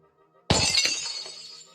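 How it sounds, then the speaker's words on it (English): A magical orb bursts apart like glass: one sudden loud crash after a near-silent lead-in, followed by a bright tinkling shower of fragments that slowly fades. "The orb in the center shatters."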